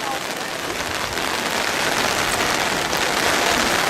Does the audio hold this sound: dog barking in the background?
no